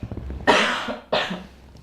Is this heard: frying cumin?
no